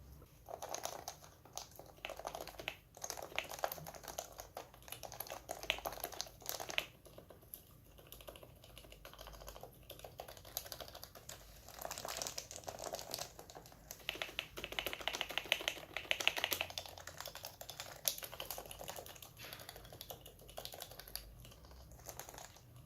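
Steady clacky typing on a Topre Happy Hacking keyboard set on a bare floor, dense overlapping keystrokes continuing throughout, close and moderately quiet.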